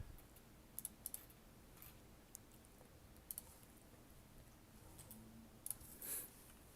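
Keys clicking on a computer keyboard during a typing race: sparse, faint taps and clicks in small irregular clusters over a quiet background, with no talking.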